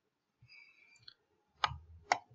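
Two distinct computer mouse clicks while working in QGIS, sharp and close, following faint tonal beeps and brief soft noises.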